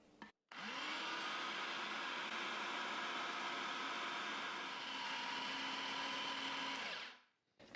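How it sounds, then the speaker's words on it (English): A food processor runs continuously, mixing pastry dough as ice water is added, a loud steady whirring motor that starts abruptly, holds for several seconds and then winds down. "I'm going to add this through the feed tube while the machine is running, and I will run the machine just until a dough starts to form"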